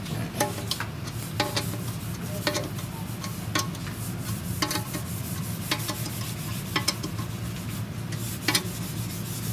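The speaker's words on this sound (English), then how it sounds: "Actually hear the head getting tighter," Wrench tightening the tension nuts on a banjo head in a repair shop, producing a scatter of light metallic ticks and taps over a soft, steady rubbing noise, close and fairly quiet.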